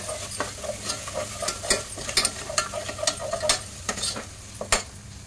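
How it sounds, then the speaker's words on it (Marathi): Masala paste of ground coconut, onion, garlic, tomato, coriander and ginger-garlic is stirred and sautéed in a pan, with a soft sizzle under repeated scraping strokes of a spoon, close up and fairly quiet. "हे वाटण खोबरं, कांदा, लसूण, टोमॅटो, कोथिंबीर, आलं लसूणचं चांगलं परतून घेऊया"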